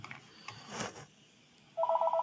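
An apartment telephone chimes in a short bright electronic ring near the end, preceded by faint rustling room noise, with no voices.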